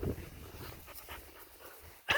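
A fluffy guardian-breed puppy pants quickly and close by, soft rhythmic breaths with a brief louder rustle at the end and no talking.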